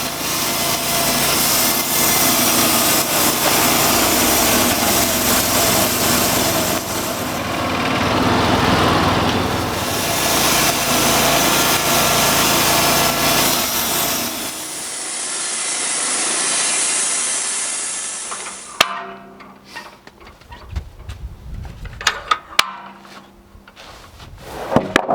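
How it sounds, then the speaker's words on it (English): A bandmill saw cutting through a cedar log, a loud sustained whining engine and blade rasp that eases down partway, then cuts off, leaving scattered knocks and clunks of wood and equipment. "I can't tell you how much I've enjoyed sawing this log"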